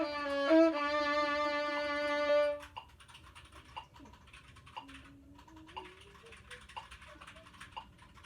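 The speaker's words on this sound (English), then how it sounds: "Sorry, I'm typing." Quick, uneven clatter of typing on a computer keyboard, soft and near, running on for several seconds after a brief spoken passage at the start.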